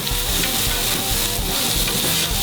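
Burger patties smashed down on a hot flat top grill sizzle loudly and steadily, a dense continuous crackle and hiss close up with no talking over it.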